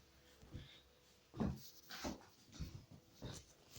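A six- or seven-month-old puppy gives a few faint, quiet whimpers and snuffles in short bursts, close by in a hushed room.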